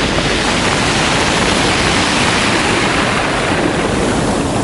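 Sea waves wash against a breakwater on a Sochi beach in a loud, dense, continuous roar close to the microphone, with wind buffeting the mic and no voices.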